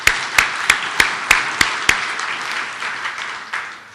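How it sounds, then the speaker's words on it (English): An audience at a downtown development annual lecture claps, with a few sharp, separate claps at first and then softer scattered applause that fades over several seconds. "Let's give Janet a round of applause"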